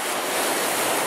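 Waves on the Lake Superior shore make a steady, breezy wash of surf, with no voices over it.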